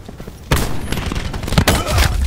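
Sniper gunfire in Black Ops 4 played against bots: a burst of loud, close shots and impacts starts abruptly and keeps cracking and thudding in an uneven volley, with sharp reports near the middle and end.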